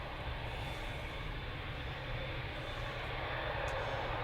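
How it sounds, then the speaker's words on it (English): A Qatar Airways Boeing 787-9 Dreamliner departing Manchester Airport gives a steady, low, broadband jet roar, fairly distant and even in level throughout, with no voices. "here we are then with the Qatar Airways 7879 Dreamliner going to Doha"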